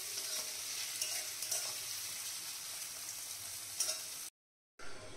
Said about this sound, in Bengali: এই যে পেঁয়াজ ভাজছি, আর সাথে কিন্তু মূলোটা আমি দিয়ে দিলাম।